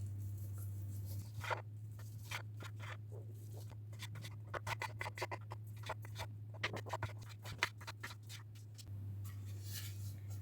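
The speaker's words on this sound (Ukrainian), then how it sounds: "Нарізати куряче філе кубиком." A knife taps and chops rapidly on a board, cutting chicken fillet into cubes, in quick irregular bursts, with a steady low hum underneath throughout.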